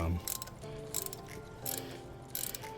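A ratchet wrench tightens the thermostat housing bolt on a 1978 Lincoln Continental Town Car, producing four short bursts of rapid clicking at roughly even intervals, close and clear against a quiet background.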